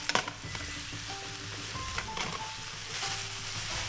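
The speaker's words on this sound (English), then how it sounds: "I'm gonna turn up the heat to glaze the beef, broccoli, and udon with this umami-packed sauce" Beef, broccoli and udon noodles sizzle loudly in a hot pan as they are stir-fried and glazed in sauce, with steady frying and occasional scraping stirs, no talk.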